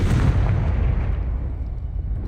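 A Confringo blasting spell explodes in Hogwarts Legacy, a loud deep booming blast that rumbles and slowly fades over two seconds.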